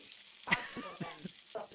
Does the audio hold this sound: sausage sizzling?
yes